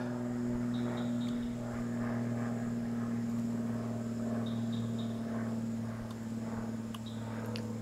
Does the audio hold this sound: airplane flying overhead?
yes